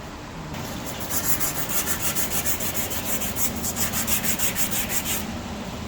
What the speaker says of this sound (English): we also want to have sandpaper to sand it to have a surface for measurement